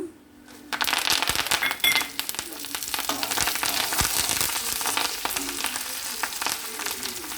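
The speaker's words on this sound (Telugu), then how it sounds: "కరివేపాకు వేద్దాం" Curry leaves drop into hot oil for tomato chutney and burst into a loud, dense crackle and spatter that begins abruptly and continues steadily, close up, with no talking.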